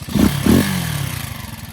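A Janus Halcyon 250 motorcycle fitted with a 28mm Nibbi carburetor gets two quick throttle blips, then settles back to a steady idle, close and clear.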